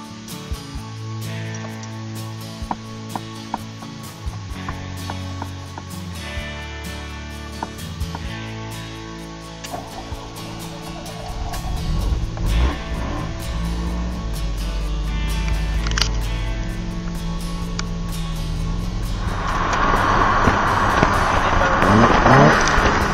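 An Alfa Romeo 33 has its key clicked into the ignition with small scattered clicks and rattles, then the engine cranks and catches, building into a steady, louder running rumble toward the end.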